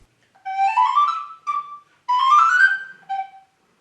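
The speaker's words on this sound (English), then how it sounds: "This one is called a descant recorder." A bright, breathy descant recorder plays short melodic phrases, a few notes each with brief pauses between, clear and close with no voices.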